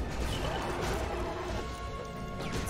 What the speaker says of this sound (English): I'm gonna use the space rhino to blow up this cannon.